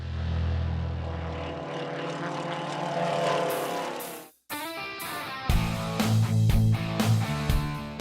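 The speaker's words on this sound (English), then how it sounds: "8 aircraft racing at speeds of over 450 kilometers an hour on a circuit just 2 kilometers" Propeller race airplanes at the Air Race 1 World Cup at U-Tapao Airport in Thailand, a loud, rich engine drone sweeping past with falling pitch, a short break, then another close, roaring pass.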